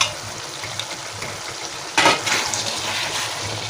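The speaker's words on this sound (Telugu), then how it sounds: "నీళ్ళు పోస్తున్నాను కొంచెం కొంచెం అయితే గ్రేవీ కోసం" Water pours into a pan of potato mixed curry starting about halfway through, a sudden splashing gush over a steady background hiss, continuing softly to the end.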